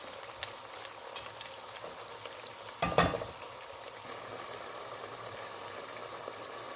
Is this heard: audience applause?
no